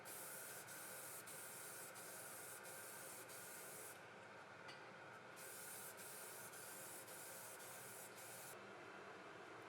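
Nitrocellulose lacquer sprayed onto MDF doors, a steady close hiss of spray with brief pauses and restarts.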